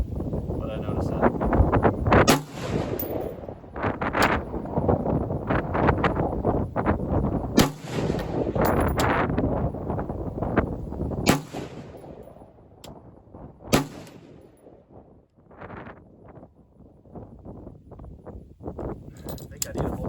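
Rifle fitted with a Chinese Eotech G33 clone optic fired at a range, several sharp gunshots spaced apart amid someone talking, with wind noise in between.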